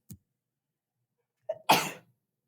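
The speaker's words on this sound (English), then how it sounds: "I'm about to sneeze." A brief intake of breath followed by one sharp, close sneeze burst, with a tiny noise just before and silence elsewhere.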